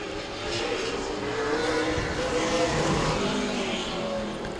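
A Super Late Model race car on a qualifying lap, engine droning steadily and fairly loud throughout, with a broad roar that swells slightly mid-lap.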